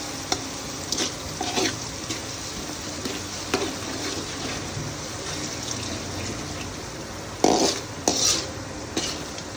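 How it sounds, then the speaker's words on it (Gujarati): Onion sautéing in a pan for tadka khichdi, a soft continuous sizzle with irregular clinks and scrapes of a spoon stirring against the pot, close and without talk. "ડુંગળીને થોડી સાતડી નાખવાની"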